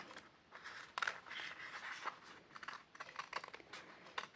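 Scissors snip through card stock while a papercraft Easter treat piece is trimmed, a series of quiet, close crisp cuts and rustles at an uneven pace with no talking.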